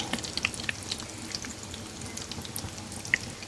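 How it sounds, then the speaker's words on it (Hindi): Potato chicken nuggets fry in a pan with a steady, fairly quiet crackle broken by scattered sharp pops, close by and with no one talking. "बिल्कुल लाइट गोल्डन कलर में जो है आपने इसको फ्राई करना है"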